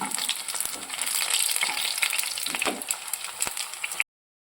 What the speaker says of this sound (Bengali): ব্যাটারে চুবিয়ে তেলে ছেড়ে দিচ্ছি